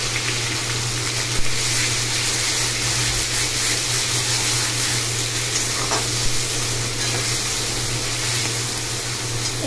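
Onion paste and green chili paste frying in a pan for prawn malai curry, a loud, dense, continuous sizzle close up with a constant low hum underneath and no talk.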